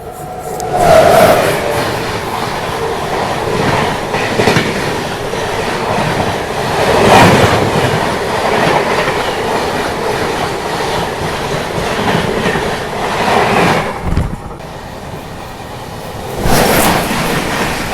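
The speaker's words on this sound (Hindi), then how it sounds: "बस उसके पीछे पीछे आ रही है अमृत भारत एक्सप्रेस।" An Amrit Bharat Express running Sitamarhi to Anand Vihar rumbles past on a parallel track with steady wheel clatter and rushing wagons, loud and close throughout, briefly dipping near the end.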